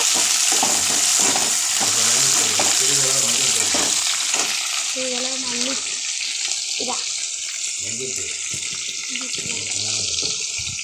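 Elephant yam and onion sizzle and hiss steadily in a hot pan, a constant bright frying noise up close, with a voice speaking over it.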